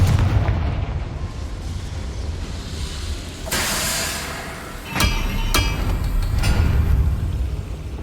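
Confringo fire spell in Hogwarts Legacy, sounding as a heavy, booming blast followed by several sharp cracks and rumbling debris over a dense, loud battle background, with no voices.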